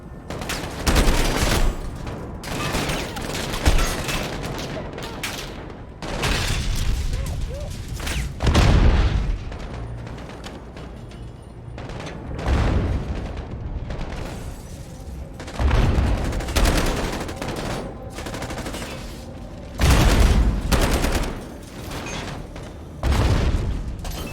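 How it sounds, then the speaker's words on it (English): Repeated explosions and heavy gunfire in Call of Duty Modern Warfare, loud booming blasts and rattling bursts recurring every few seconds throughout. "There's a lot of bullshit exploding in here."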